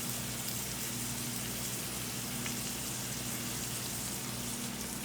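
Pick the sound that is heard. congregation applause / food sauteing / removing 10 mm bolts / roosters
food sauteing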